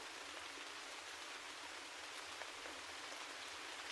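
Steady rain falls in a dense, even hiss with no pauses or breaks, close and enveloping, with faint individual drops pattering within the wash and nothing else audible.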